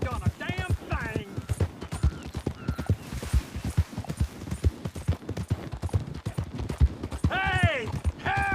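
Horse hooves in the video game Red Dead Redemption 2, a fast, continuous rhythmic clip-clop of galloping running throughout, with a horse whinnying and voices talking over it.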